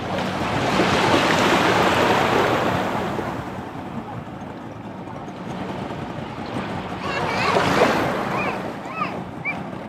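Ocean waves wash onto a beach at Jomtien, Thailand, a broad steady surf rush that swells and eases, with a second louder surge near the end and some wind buffeting the microphone.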